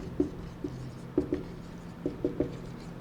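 Handwriting with a pen or marker, faint scratchy strokes in short irregular clusters of taps and scrapes, close but quiet in a still room.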